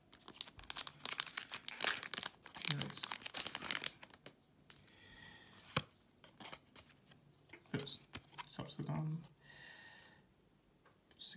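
A Pokémon card pack wrapper is torn and crinkled open close up, with sharp bursts of foil crackling and ripping, then scattered softer rustles and taps with pauses in between.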